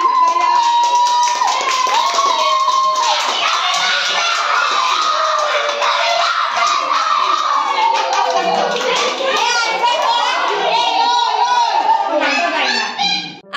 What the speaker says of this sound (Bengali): হাততালি দে সবাই